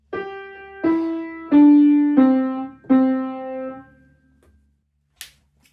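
A short beginner's phrase on piano: five distinct struck notes in a steady, unhurried pulse, each ringing out and fading, heard up close and alone, with a brief sharp click after the last note dies away.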